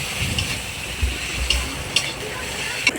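Garlic sautéing in a pan for a ghugni recipe, a soft steady sizzle with a few brief clinks of stirring, close and moderate in level.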